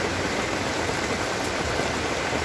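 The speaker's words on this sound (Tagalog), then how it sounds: "So malakas yung ulan." Heavy rain pours steadily outside a hut, a dense, loud, unbroken hiss of falling water with no pauses or voices.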